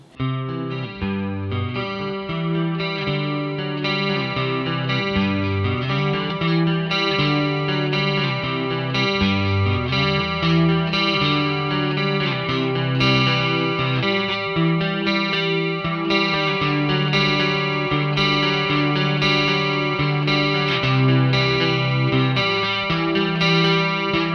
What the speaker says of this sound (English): Let's put some chorus on for that classic Roland Jazz Chorus sound.